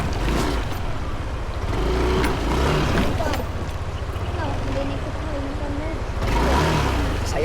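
A motorcycle engine rumbles and strains unevenly as the bike picks its way across a rocky river crossing near Bayugan City, surging in places, while someone talks over it throughout.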